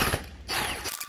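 A ratchet works on a bolt from the engine mount of a 2006 Toyota Corolla, giving a brief, close burst of clicking.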